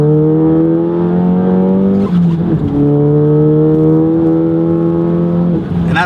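A VW MK7 GTI on H&R springs drives S-curve roads, its engine holding a loud, steady drone close by that dips briefly with each shift or throttle lift before resuming.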